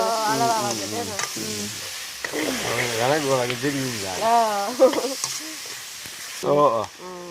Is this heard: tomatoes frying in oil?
yes